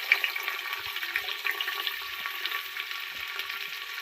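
Chana dal tipped into a pan for a simple palak bhaji, frying with a steady, soft crackling sizzle that runs unbroken and fairly quiet throughout.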